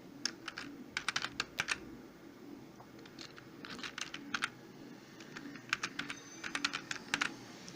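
Fingers typing HTML list items on a computer keyboard, with close, crisp clusters of quick keystrokes in irregular bursts separated by short pauses in a quiet room.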